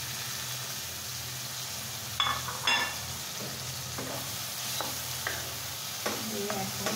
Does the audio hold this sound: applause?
no